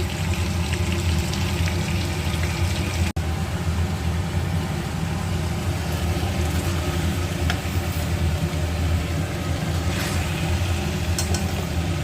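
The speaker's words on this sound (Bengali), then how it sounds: "দেখো বন্ধুরা মাছ ভাজা চলছে এক সাইড হয়ে গেছে আমি উল্টে দিলাম" Rohu fish frying in a pan of hot oil, a steady loud sizzle and crackle continuing throughout, with one sharp knock partway through.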